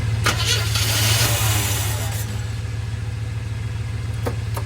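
A small-block Chevy V8 in a 1970 C10 pickup, stuck and with trash sucked into its carburetor, cranks with a steady low mechanical drone and a burst of broadband rattle early on, continuing evenly to the end.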